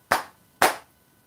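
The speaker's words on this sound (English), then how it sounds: "she had this clap technique that the students have learned from a young age" Two sharp hand claps, evenly spaced about half a second apart, ring out clearly in a teacher's attention-getting clap technique at a camp lesson, with no talking around them.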